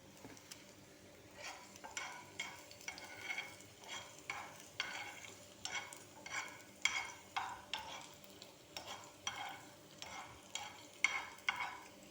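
Adobo shrimp cooking in a pan, quiet rhythmic scraping strokes of stirring repeating about every half second over a faint, steady sizzle, heard close with no speech.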